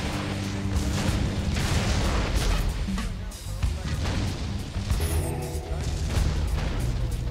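Ship cannons fire in repeated heavy booms during a naval battle in the online game Darkfall, a dense, continuous barrage with rumbling low end that runs through the whole stretch while a voice talks over it.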